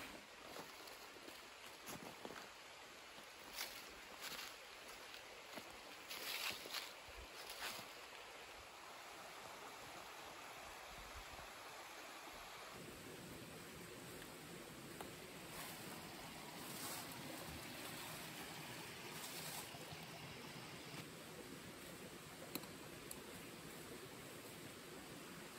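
A river rushes steadily beside a small mountain refuge on a hike through the Monts du Cantal, giving a soft, continuous broadband wash that grows fuller partway through, with no voices.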